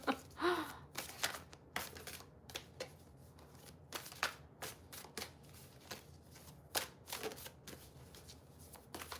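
A deck of playing cards is shuffled repeatedly at close range, with crisp riffling bursts and soft card slaps in an irregular rhythm across a quiet indoor setting, with no talking.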